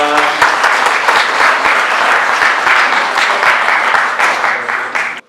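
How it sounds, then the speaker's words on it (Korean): A large audience applauds steadily at a Korean community association presidents' inauguration ceremony, loud dense clapping filling the room for about five seconds before cutting off abruptly. "큰 박수 부탁드리겠습니다"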